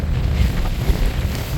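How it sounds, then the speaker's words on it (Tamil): A strong headwind blows by the sea near a sandbank, buffeting the microphone with a continuous low, gusty rumble and roar, and no voices are heard. "நல்ல எதிர் காத்தடிக்குது நடக்க."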